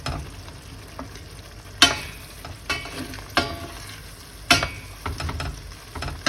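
Lentils cooking in a pan being stirred with a spoon, a steady low sizzle broken by several sharp scraping strokes at uneven intervals, close and alone without talk.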